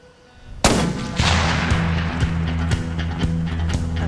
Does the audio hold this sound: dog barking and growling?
no